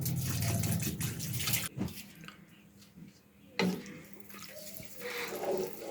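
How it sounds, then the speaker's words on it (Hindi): Half a litre of water poured into a cooking pot with lentils and meat, a loud gushing splash at first, then quieter trickles and sloshing with a second pour toward the end. "हाफ लीटर इसके अंदर पानी डालेंगे।"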